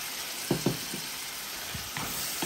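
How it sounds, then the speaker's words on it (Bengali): Potatoes frying with garlic and onion in a pan give a steady broadband sizzle, with a few soft spatula scrapes and taps standing out near the start and again later, no voices. "ভাজি করি তারপর আমি হলুদ আর মরিচ দিই"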